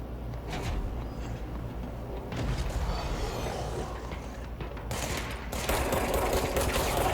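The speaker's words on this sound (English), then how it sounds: "Homeboy firing rockets up in this bitch" Rockets fire in the video game Control, with loud booming blasts and roaring bursts over a constant heavy background din, growing louder toward the end.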